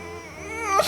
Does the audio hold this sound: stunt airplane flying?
no